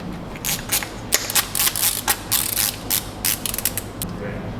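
Close, rapid bursts of clicking from a ratchet dial being cranked tighter on a gravel cycling shoe, in short repeated runs with brief pauses.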